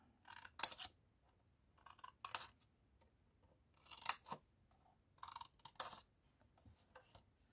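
Scissors snip paper corners for a 3D truck model, making about six short, crisp cuts at irregular intervals, close and fairly quiet, with near silence between them.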